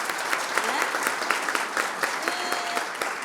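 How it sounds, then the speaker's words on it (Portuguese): Applause from a seated audience thanking women panel guests at a business talk, a steady patter of many hands with some distinct sharper claps, moderately loud for about three seconds with faint voices mixed in. "uma salva de palmas para elas"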